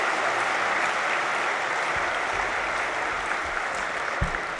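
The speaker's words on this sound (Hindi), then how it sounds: "और आप ताली बजाते रहेंगे।" Sustained applause from a large audience at a spiritual gathering during a bouquet presentation, a dense steady wash of clapping filling the whole stretch with a few sharper low thumps.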